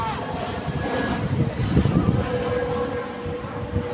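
Outdoors, an airplane passes overhead with a broad, rushing drone that swells toward the middle and fades, while people talk nearby.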